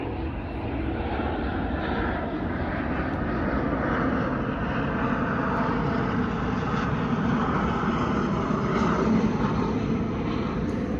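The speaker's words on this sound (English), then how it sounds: "there's also a lot of planes here" Airplanes flying overhead, a continuous loud broadband engine roar that stays steady without breaks and has no talking over it.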